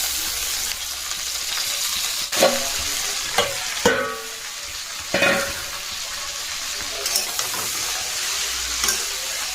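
Leafy greens fry in a pan with a steady close sizzle, punctuated every second or two by loud scrapes and clacks of stirring, then settle back into a quieter hiss.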